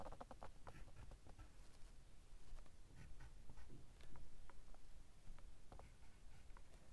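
A pen writes on paper while a probability tree diagram is drawn, faint close scratching strokes in short irregular bursts against a quiet background.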